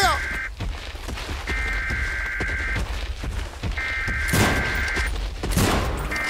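Gunfire in the Siren Head video game comes as a couple of loud bursts near the end, over a droning game background with a repeating alarm-like tone.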